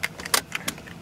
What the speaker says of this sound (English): And then you just put the key in,